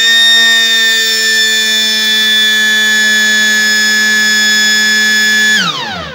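A loud, steady electronic alarm buzzer on a timer-controlled automatic changeover switch drones continuously at close range for several seconds, then cuts off abruptly.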